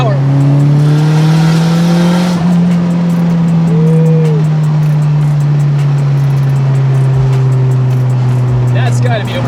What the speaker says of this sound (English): this car's got some kick